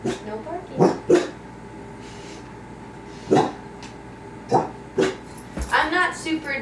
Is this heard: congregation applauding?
no